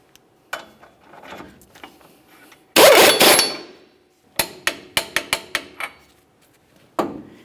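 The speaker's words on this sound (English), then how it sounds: "Let's start by snugging the lower ball joint nut and then torque that to 74 foot-pounds." Lower ball joint nut on the steering knuckle of a 1999-2006 Chevrolet Silverado 1500 being snugged and torqued to spec: scattered metallic taps, a loud burst of ratcheting, then a run of sharp clicks from the torque wrench, close and without talk.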